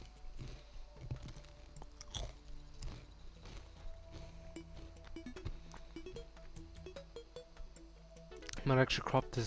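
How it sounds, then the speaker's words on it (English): Someone chews crunchy chips close to the mic, with irregular crisp bites and crunches scattered across the clip, ending with a short burst of speech-like voice. "If you can't tell, I'm eating some chips."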